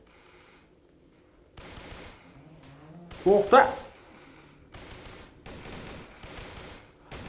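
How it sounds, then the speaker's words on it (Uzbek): Bursts of gunfire in the zombie video game Darkest Days, a few rapid volleys of moderate loudness mixed with game effects while someone talks over them. "Kimdir otishma qilyapti endi."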